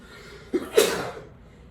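A single quick sneeze, short and sharp, close by against a quiet background.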